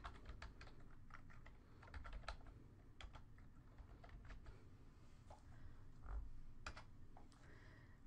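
Quiet, irregular clicks of fingers typing on a computer keyboard while entering a name into a data field in ColorBar label design software, the keystrokes coming in short bursts over a low background hum.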